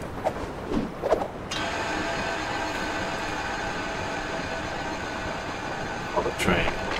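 A train in the PlayStation 3 game Sly Cooper: Thieves in Time, in an Old West setting, gives a steady, fairly loud rumble with humming tones for several seconds. Brief voice-like bursts come before and after it.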